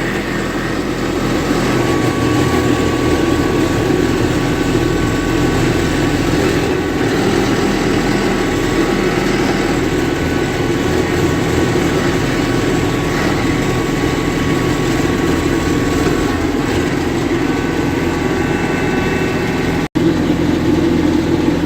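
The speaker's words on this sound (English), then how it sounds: "now we put on the PTO" A tractor engine drones steadily and loudly with its power take-off engaged, driving a snowblower during a blizzard in Uxbridge, Ontario, a continuous low rumble throughout with no talking.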